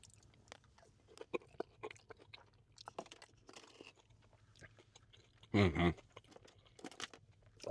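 Close, crunchy chewing of a bite of halal taco topped with salsa verde, with soft irregular bites and one loud crunch partway through, no talking.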